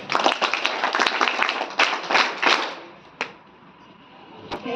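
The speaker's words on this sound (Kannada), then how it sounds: "ಎಸ್ ಪಿ ಸಾಹೇಬರಿಗೆ ಚಪ್ಪಾಳೆ ತಟ್ಟೋ ಮೂಲಕ ಕೃತಜ್ಞತೆ ಹೇಳ್ಬೇಕು" An audience claps in thanks for a district police superintendent at a school open-house event, a dense burst of applause for about three seconds that thins to a few scattered claps and then fades out.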